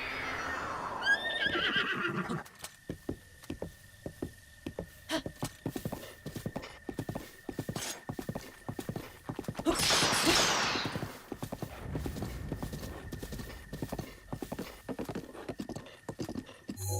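Hooves clip-clop steadily at a gallop in The Legend of Zelda: Breath of the Wild, with a horse whinnying near the start and again around the middle, all loud and close.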